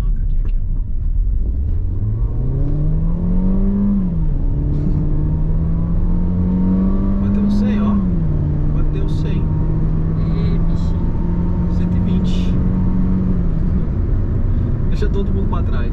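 A Citroën C4 Cactus accelerates hard from a stop. Its engine note climbs steadily, dips at two gear changes and then holds a steady drone, all loud inside the cabin.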